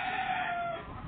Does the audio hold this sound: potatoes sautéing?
no